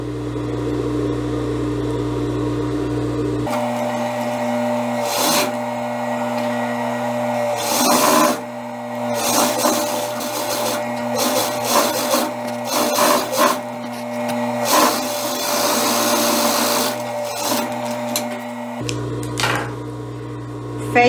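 A sewing machine runs a seam along a hem folded over two centimetres, a close steady mechanical whir with irregular clicks and a low hum under it, quite loud.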